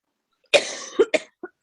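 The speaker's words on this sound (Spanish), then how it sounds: "discúlpame, estoy con tos" A person coughs nearby: one long, harsh cough, then a quick run of four shorter ones, loud and alone against silence, with no speech.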